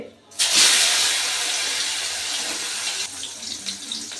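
Wet bitter gourd slices drop into hot rice bran oil in a wok already tempered with dried red chillies and nigella seeds. A sudden loud sizzle bursts in after a short quiet moment, then holds as a dense, steady hiss that eases slightly toward the end.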